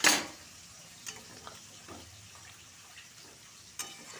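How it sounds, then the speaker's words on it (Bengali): Hot water hits a pan of cauliflower, new potato and duck egg curry with a sharp hiss that quickly fades to a low simmer. A few faint clicks of the pan follow, and no one speaks. "এবারে গরম জল দিয়ে দিচ্ছি আমরা যেমন ঝোল ঝোল খাবেন সেই অনুযায়ী গরম জল দেবেন"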